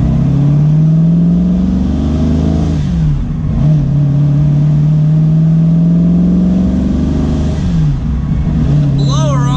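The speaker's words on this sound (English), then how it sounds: "The blower on this car is extremely loud." A supercharged Corvette C7 engine runs hard on a dyno with a loud whining blower, holding steady then dipping and climbing again, very loud and close, with a voice talking faintly under the roar.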